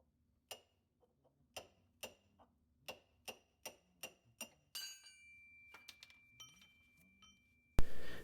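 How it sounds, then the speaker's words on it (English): A hammer drives a punch through 30-year-old rubber suspension bushings on a Toyota Hiace: about a dozen sharp, close metallic strikes at an even, unhurried pace, ending with a louder clatter. "with the hammer and my punch here, I was able to punch those all the way through with no problem"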